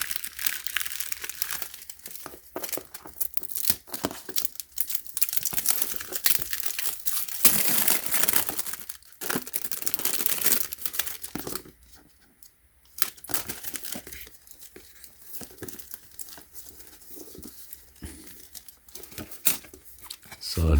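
Plastic and paper packaging crinkles and tears loudly up close while a security camera is unboxed, bursts of rustling and crunching with a short quiet gap midway.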